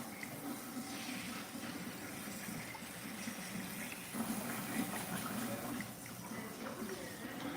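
Steady running water gushes continuously into a bath while a French bulldog is being washed, a loud, even wash of flow with small splashy fluctuations throughout.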